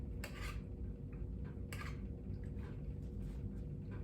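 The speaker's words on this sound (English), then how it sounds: "Stir it up good." A spoon stirs a pot of thick chili, making a few scraping, clinking strokes against the pot over a low steady background hum, with no talk.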